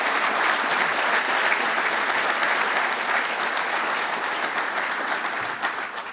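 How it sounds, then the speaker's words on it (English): A summit audience applauds in a dense, sustained wash of clapping that holds steady for several seconds and tapers slightly at the end, with no talking over it. "Let's give them a warm applause to both of them."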